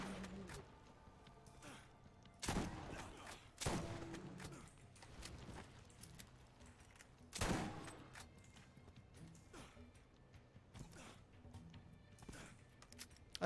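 Shotgun blasts from the Borderlands video game, a handful of sharp, widely spaced booming shots over quiet background, fairly faint overall.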